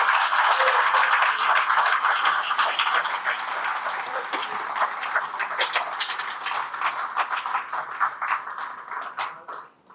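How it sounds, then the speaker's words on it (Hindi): A crowd at a product introduction event applauding, dense clapping that stays steady and loud before gradually thinning out toward the end. "तो आप सबों के लिए एक दिल से चाहते हैं कि जोरदार तालियां हो जाए अपने लिए।"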